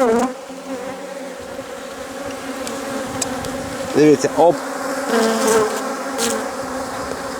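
A dense, steady buzzing of many honeybees hums up close around an open hive. A person speaks briefly in Ukrainian partway through, and there are a few quick handling sounds.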